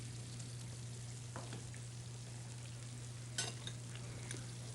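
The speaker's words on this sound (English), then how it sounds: "the oil has gotten its sizzle point. The chicken is turned to make sure both sides are crisped in the oil" Chicken frying in hot oil gives a faint, steady sizzle over a constant low hum, with a few soft crackles and pops scattered through it.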